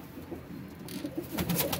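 Breeding pigeons coo softly in low, throaty bursts, with a rustle of movement and wing flutter picking up toward the end.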